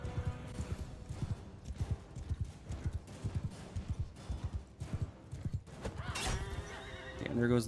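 A horse gallops and then neighs loudly in the medieval battle game Mount and Blade II: Bannerlord, steady pounding hoofbeats giving way to a shrill, drawn-out whinny near the end.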